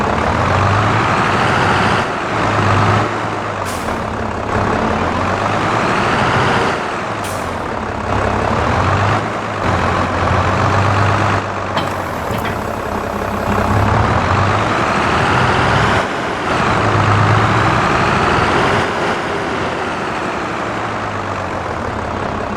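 Farming Simulator 22 tractor engine running in-game: a loud, steady diesel drone with repeated hiss-like bursts and low throbs, continuous throughout with no talking.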